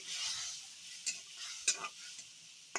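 Cut fish and dried fish being stirred in a frying pan for a potato and dried-fish curry, a steady sizzle broken by a few sharp utensil scrapes.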